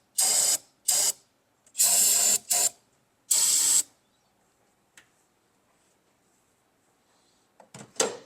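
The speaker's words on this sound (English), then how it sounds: "I'm going to spray that out with some carb cleaner" Carb cleaner sprays into an empty injector hole on a 2006 Jeep Liberty engine in several short hissing bursts with gaps between them, then quiet with a few faint clicks and a final burst.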